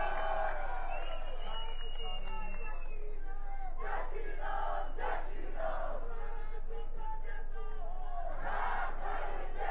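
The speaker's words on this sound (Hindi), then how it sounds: "अपने लिए जोरदार तालियां" A large crowd at a BJP political rally in Hamirpur, Himachal Pradesh, claps and cheers loudly, with shouting voices rising and falling in waves throughout.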